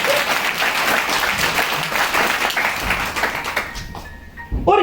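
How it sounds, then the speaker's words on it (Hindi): Loud, sustained applause from an audience at a product training event fills nearly five seconds, fading briefly near the end before a final burst of clapping. "और इसमें तालियां लगानी तो मैं खुल के लगा लो यार।"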